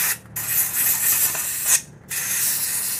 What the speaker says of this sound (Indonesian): kita semprot dulu cing menggunakan angin biar lebih bersih